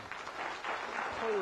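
Studio audience applause greeting the host of a 1993 televised school quiz show, brief dense clapping with a voice rising through it near the end.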